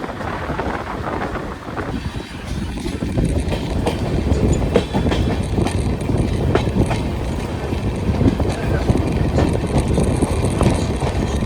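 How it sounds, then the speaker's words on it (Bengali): Uttar Banga Express passenger train running from Sealdah toward New Jalpaiguri, heard as a steady loud rumble and rhythmic wheel clatter throughout, with no voices. "2 মিনিটে হল দিয়ে ট্রেন বেরিয়ে চলল তার অন্তিম গন্তব্য"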